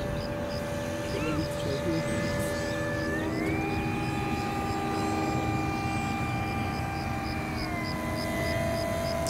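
A 6 kg SAE Aero Design model airplane flies empty, practice flight by a Polish team, its steady electric-motor whine holding one pitch, then rising and later dropping back as it passes, heard continuously at moderate distance over outdoor background noise.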